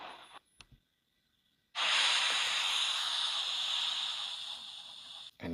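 The steam engine Murdoch, coupled to a goods train, lets out a loud, steady hiss of steam that starts abruptly after a short silence and holds for several seconds before cutting off.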